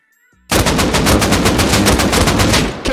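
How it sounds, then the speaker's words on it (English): Sustained automatic gunfire in the survival game Rust Console, a loud burst that starts abruptly and continues as a rapid, dense rattle of shots for about two and a half seconds. "I think they're getting shot from behind."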